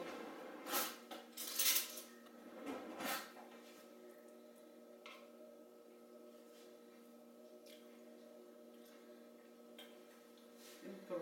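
A small spoon clinks and taps against dishes in a quiet home kitchen while stuffing is prepared for manicotti. A few light, sharp clicks come in the first seconds, then occasional faint taps.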